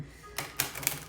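Tarot cards made of a slightly different material are shuffled in a few quick, crisp riffling bursts, close and fairly quiet.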